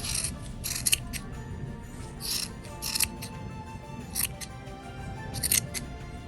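Scissors snip through folded paper for a handmade gift decoration, a run of quick crisp cuts that repeat in short bursts over a soft rustling background with no talk.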